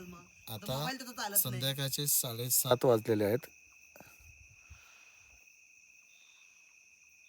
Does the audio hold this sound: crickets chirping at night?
yes